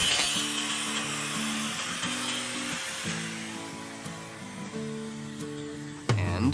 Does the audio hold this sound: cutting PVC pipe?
yes